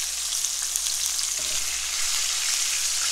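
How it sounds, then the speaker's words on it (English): Chicken-fried deer meat cooks in hot frying grease, a loud, continuous close-up sizzle with scattered small pops throughout. "Listen to that grease sizzle and pop."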